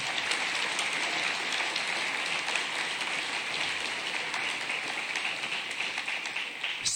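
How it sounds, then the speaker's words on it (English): Audience applause at a political rally in Decorah, Iowa: a dense, steady wash of many hands clapping, fairly distant and even for several seconds, with no talking over it. "give them a good round of applause."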